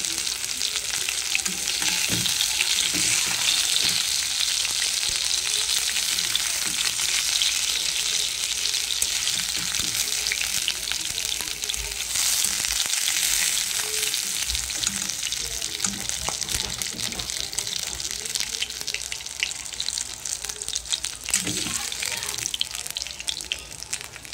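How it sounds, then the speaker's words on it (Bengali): Fish frying in oil, a steady dense sizzle with occasional stirring and a faint trickle of water in the background throughout. "মাছটা খুব ভালো করে ভাজা হয়ে গেছে, এখন আমি মাছগুলো তুলে নেব।"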